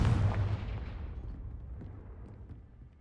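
A Confringo explosive spell in Hogwarts Legacy bursts with a heavy, booming blast that rumbles and fades away over about three seconds.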